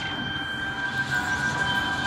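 The train in the video game Identity V rolls past with a steady mechanical rumble and a sustained whining squeal, loud and continuous for the whole moment.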